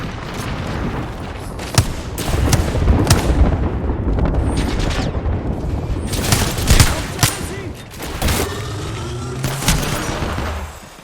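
Rapid gunfire in a battle royale video game, dense bursts of shots and booms layered over one another, loud and sustained, with a voice talking underneath.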